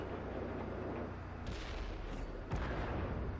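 In World of Tanks, a tank cannon fires two heavy booms about a second apart, each with a rolling tail, over a constant low battle rumble.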